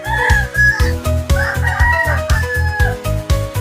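A fighting rooster crows loudly and close, with clucking fowl and a rhythmic pulsing beat underneath, and no one talking.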